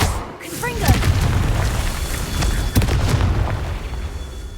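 Confringo blasting spells from Hogwarts Legacy explode in rolling booms with sharp bursts, layered over continuous game ambience, while a voice speaks briefly near the start.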